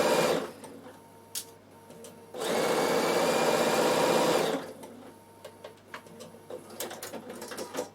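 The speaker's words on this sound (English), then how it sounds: "So now I'm going to sew my other pocket. So 1 centimetre seam all the way." A Bernina sewing machine runs a 1 cm seam on a trouser pocket, a single steady whirring burst of about two seconds in mid-clip, loud and close, with quiet handling noises before and after.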